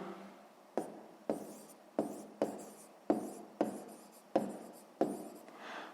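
Handwriting during a sixth-grade maths exercise: a quiet, close scratching of about nine separate strokes, each starting sharply and fading, with short gaps between them.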